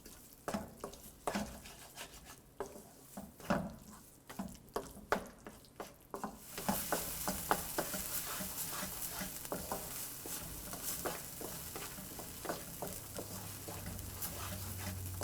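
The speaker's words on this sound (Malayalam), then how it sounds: "ടൊമാറ്റോ നന്നായിട്ട് വെന്തലിഞ്ഞ് പേസ്റ്റ് പോലെ ആകുന്നത് വരെ വഴറ്റണം" Tomatoes cook down into a paste for chicken vindaloo, stirred in a pan with repeated scraping strokes over a quiet sizzle that grows louder and denser midway, steady and close with no talking.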